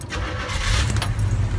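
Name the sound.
1967 Chevrolet Chevelle SS engine starting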